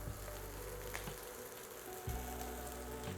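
Shrimp laid into a hot pan for blackened shrimp sizzle and crackle steadily up close, a continuous frying hiss with a low hum beneath.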